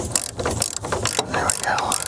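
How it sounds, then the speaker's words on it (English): A hand ratchet tightens a bolt on a 1978 Chevrolet squarebody truck, giving quick, close clicking bursts in an uneven rhythm. "grab the ratchet. Put her in tightening."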